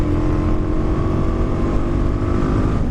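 A Suzuki DRZ400 motorcycle being ridden, its engine droning loud and steady up close for the whole stretch, with no voices over it.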